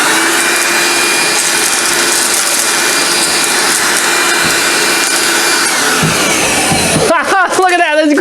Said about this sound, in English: I wanted to get a vacuum to suck up my kids' toys